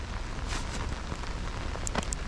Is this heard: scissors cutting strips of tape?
no